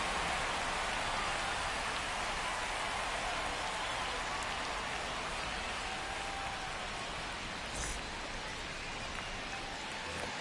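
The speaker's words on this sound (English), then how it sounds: "It feels like we might be headed towards a rain delay if the weather doesn't ease up, Chris." Steady heavy rain falling throughout a baseball game in MLB The Show 25, a constant dense hiss with no breaks and no audible commentary.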